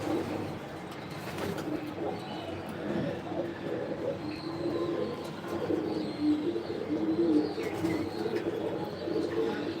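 Pigeons coo softly and repeatedly inside a racing pigeon loft on a hot rooftop, low murmuring calls overlapping with faint chirps and a steady background hum, with a voice talking now and then.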